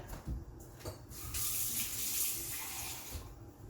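Cold tap water pours steadily from a kitchen faucet into a pot, a rushing splash that starts and swells into a continuous stream, close and fairly loud, with no one talking.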